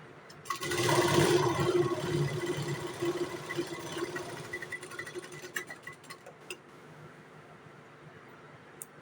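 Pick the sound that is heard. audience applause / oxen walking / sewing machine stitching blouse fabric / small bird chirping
sewing machine stitching blouse fabric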